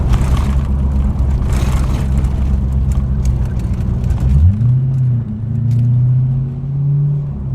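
Corvette ZR1 V8 rumbling loudly at low road speed, then revving up with a rising, aggressive engine note, heard up close inside the car without talk.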